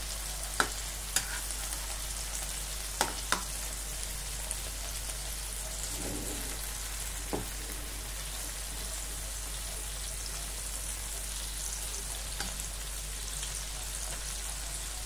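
Surimi crab sticks frying in a pan over low heat, giving a steady close sizzle and crackle throughout, with a few faint clinks of utensils.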